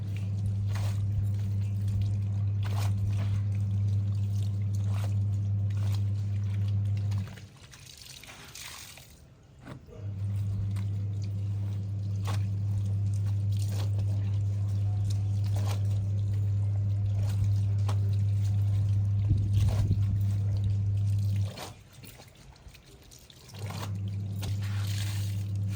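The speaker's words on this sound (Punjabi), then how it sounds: "ਨਾਲ ਦੇ ਨਾਲ ਨਾ ਮਸ਼ੀਨ ਲਾਈ ਆ ਤੇ ਨਾਲ ਕੱਪੜੇ ਵੀ ਧੋ ਰਹੀ ਆ ਤੇ ਨਾਲ ਸਫਾਈਆਂ ਵੀ ਕਰ ਰਹੀ ਆ" Washing machine humming steadily during laundry at a village home, with water sloshing and trickling; the drone cuts out twice briefly, leaving quieter splashing, then resumes.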